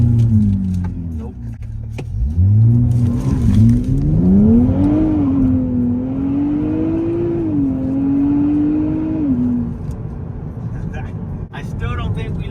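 A 2023 Nissan Z in manual sport mode with traction control on, held on the brake, then launched: its engine revs rise and fall over several seconds, loud and close, with people talking over it.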